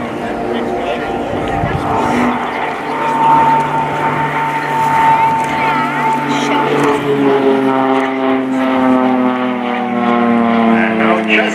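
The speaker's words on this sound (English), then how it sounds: "So here we go for the fly pass of our soloist." A Pilatus PC-7 propeller aircraft of the Swiss Air Force display team makes an inverted solo fly pass at an air show, its engine drone loud and sustained, rising and falling in pitch as it passes, with a commentator talking over it.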